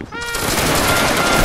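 Musket volley from line infantry in the Roblox game Wagram, a dense, loud crackling burst of many shots that swells and stays sustained through the whole moment.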